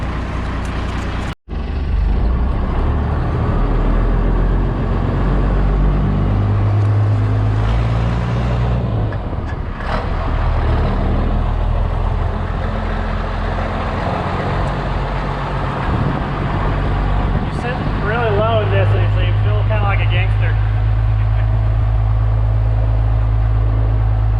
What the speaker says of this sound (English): It's just a good sounding truck.